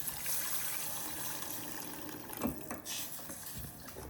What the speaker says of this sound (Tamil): குழம்புக்கு தேவையான அளவு தண்ணி.